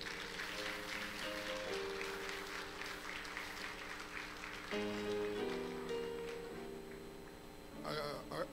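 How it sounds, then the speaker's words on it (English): A church congregation claps in praise during a Sunday morning worship service, a steady wash of applause mixed with sustained organ or keyboard chords and some voices, fairly loud throughout. "Let's give the Lord a hand clap of praise."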